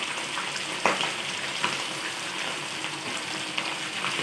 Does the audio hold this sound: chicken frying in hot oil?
yes